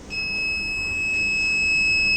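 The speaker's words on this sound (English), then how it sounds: "Buzzer on also." A buzzer on a solar-powered multi-purpose robot built with Arduino and ESP32 sounds a steady, high electronic tone held continuously for about two seconds, fairly loud and alone with no talk.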